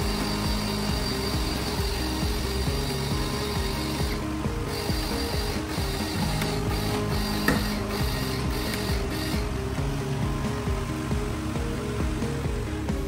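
Motorized drafting table driven by a digital controller, shifting its angle and height with a steady mechanical whir and hum, broken by a few clicks and ratcheting ticks, close and without speech.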